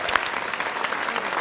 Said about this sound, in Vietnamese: một tràng pháo tay lớn nữa để chúc mừng cho tiết mục của Tùng Anh và Hồ Thiên